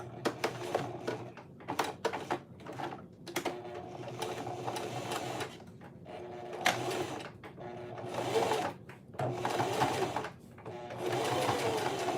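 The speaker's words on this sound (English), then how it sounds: "and then I'm going to sew this on" A sewing machine stitches woven cotton for a phone sling, running close and loud in several bursts of rapid needle chatter separated by brief stops.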